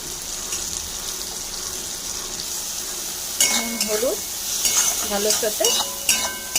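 A pan of softened tomato and onion mixture with salt and turmeric is stirred, giving soft scraping and sizzling over steady background hiss, with a few brief clinks of the utensil against the pan in the second half.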